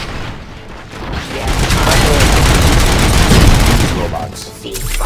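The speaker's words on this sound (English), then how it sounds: "Gunshots?" Bursts of rapid gunfire fill a Robocop video game scene, a loud, dense fusillade swelling over several seconds with booming impacts and mechanical clatter, fading briefly before rising again.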